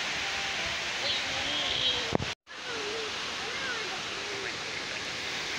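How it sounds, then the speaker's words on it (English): Minnehaha Falls waterfall roaring steadily as a constant broadband rush close by, with a brief dropout midway and faint voices beneath. "Yeah, there's a waterfall."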